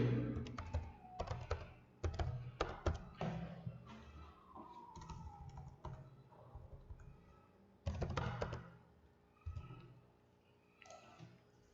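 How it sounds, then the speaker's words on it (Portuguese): Bursts of typing on a computer keyboard while searching a GIS toolbox, quick clusters of key clicks with pauses between, close and quiet, no talking. "nós vamos vir aqui e digitar na caixa de ferramentas aqui"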